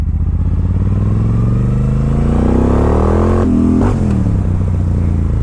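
A 2013 Moto Guzzi California motorcycle engine runs loud and close, its steady rumble rising in pitch as the rider revs it, then dipping briefly with a clunk before settling back into a constant drone.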